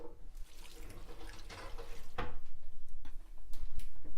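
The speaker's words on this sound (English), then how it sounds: "the last thing I'm going to add is just a cup of regular water" A cup of plain water poured into chili in a crock pot, a short splashing, gurgling pour that swells midway and continues in close, bubbly bursts.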